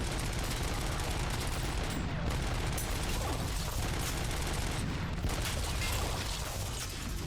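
Dense, nonstop gunfire fills the Robocop: Rogue City firefight, with rapid shots and bursts layered into a loud, continuous roar without pause.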